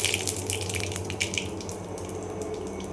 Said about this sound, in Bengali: এবার আমি এটা ধুয়ে নেব।